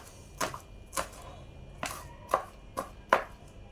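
Leafy greens such as spinach chopped with a knife on a board, six sharp separate cuts at an uneven, unhurried pace, close and clear against a quiet background with no talk.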